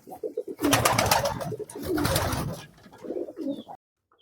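Pigeons on a pigeon farm coo in soft, rolling phrases close by, two longer swells of layered cooing from several birds with quieter coos before and after, then a sudden cut to silence.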